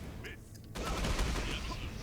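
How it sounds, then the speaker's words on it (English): Explosion in the video game Dungeon Fighter Online during a monk character's fight, a sudden loud broadband burst after a quiet moment, followed by sustained crackling rumble. "That explosion still hit me."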